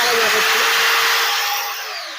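An electric 16-inch chainsaw runs steadily with a loud, high-pitched motor whine that slowly falls in pitch as it winds down, close to the listener; a voice is heard speaking over it.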